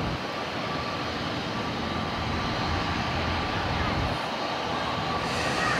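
ATR turboprop airliner taking off at Lisbon airport, a steady broad roar of engines and runway noise held at an even level throughout, heard from a distance.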